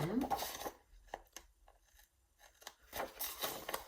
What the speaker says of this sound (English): So let's go ahead and trim this down now.